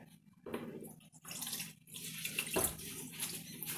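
Dark, blackish-brown liquid pours out of a container from a 1.6 HDi engine in splashing, gurgling bursts, close and moderately loud, with brief pauses between pours.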